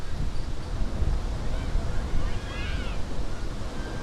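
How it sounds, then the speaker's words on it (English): Strong wind buffets the microphone in a steady low roar at an outdoor softball game, with a faint high whine drifting through the middle of the gusts. "We are getting heavy winds."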